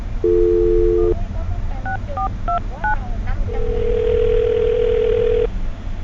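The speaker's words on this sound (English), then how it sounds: "I'm gonna dial this phone number right now" A telephone number is dialed by hand: a steady dial tone, then a quick run of separate touch-tone beeps of varying pitch, followed by a long even ringing tone. All are close and clear, with no talking.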